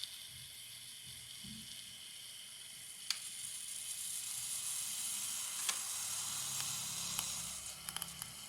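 Moka pot finishing its extraction with a steady steamy sizzle and hiss, broken by a few sharp sputtering clicks and pops near the close, fairly quiet and close with no talk.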